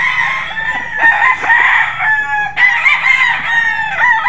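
A Golden Boy sweater gamefowl rooster crows loudly and close by, its long strained call running nearly unbroken with a brief break midway before a second crow.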